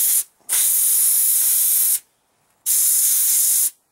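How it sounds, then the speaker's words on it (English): Compressed air from an air gun blasting onto a Cummins 6BT P-7100 injection pump delivery valve, in two long loud hissing bursts with a short pause between them. "you want to take your air gun and you just want to blow"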